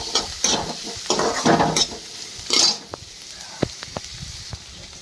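Tomato and chili are sautéed in a pan, giving a sizzling hiss broken up by repeated scraping and stirring strokes and a few sharp clinks of a utensil against metal.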